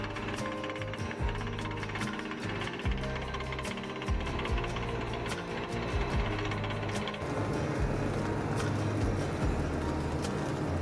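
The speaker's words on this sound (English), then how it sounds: "Drilling away, shoveling the muck aside." Heavy machinery pounds and rumbles steadily with rhythmic percussive hits, a deep well drilling rig working at close range in the desert near Joshua Tree without pause.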